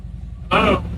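A loud motorcycle engine rumbles nearby in one short burst of about a quarter second, rising sharply over quiet outdoor background noise.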